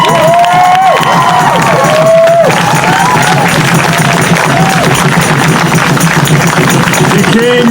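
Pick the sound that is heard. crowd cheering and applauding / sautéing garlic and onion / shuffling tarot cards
crowd cheering and applauding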